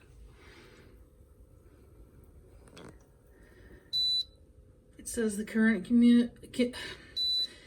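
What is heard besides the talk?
Air Innovations humidifier beeping for lack of water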